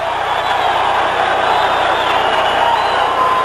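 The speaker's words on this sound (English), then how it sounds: "Crowd likes it." A boxing arena crowd during a Sugar Ray Leonard versus Dicky Eklund bout roars in a dense, steady wash of cheering and shouting, loud and sustained throughout without breaks.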